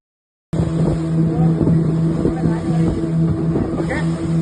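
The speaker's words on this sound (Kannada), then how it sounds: "ಬೋಟ್ನಲ್ಲಿ ದ್ವೀಪದತ್ತ ಪ್ರಯಾಣಿಸುವಾಗ ಸಮುದ್ರದ ಅಲೆಗಳ ನಡುವೆ ಸಾಗುವುದು ರೋಮಾಂಚನಕಾರಿಯಾಗಿದೆ." A motorboat crosses sea waves toward Netrani island off Murudeshwar, starting after a moment of silence as a loud, steady engine drone with a tonal hum, mixed with wind buffeting and water rush.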